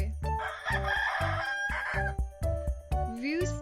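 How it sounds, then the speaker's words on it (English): A rooster crows a loud, close cock-a-doodle-doo over a steady rhythmic background beat, ending in a rising, strained final note. "Rooster."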